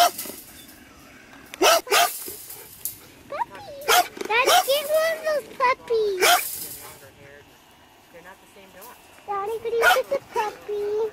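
A young puppy barks and whimpers in short, high yelps that come in bursts and rise and fall in pitch, heard close by while people talk quietly around it indoors.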